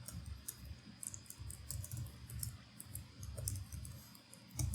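Someone types an email address on a computer keyboard, quiet irregular clicks tapping away in quick bursts, close and soft, with no voices.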